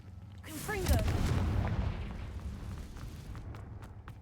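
A Confringo fire spell from the game Hogwarts Legacy goes off: a rising whooshing cast swells into a single heavy booming blast that slowly rumbles away.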